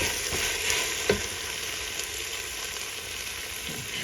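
Food sizzling and crackling steadily while being roasted in a pan, with a few sharp stirring clicks; close and continuous, no voices.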